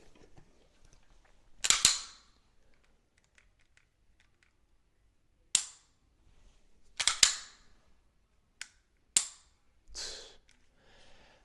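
Springfield Echelon pistol trigger dry-fired indoors, giving sharp, close mechanical clicks in small spaced clusters, some doubled as the trigger breaks and resets, with quiet gaps between.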